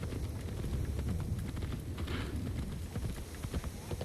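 Rapid hooves clip-clop steadily in the video game Assassin's Creed Shadows, a galloping horse close by over a dense, rumbling background.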